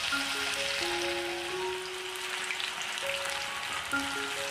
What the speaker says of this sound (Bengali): এবার আমি ওই গরম তেলের মধ্যে একে একে বাকি চিকেন পকোড়াগুলোকেও ছেড়ে দেব।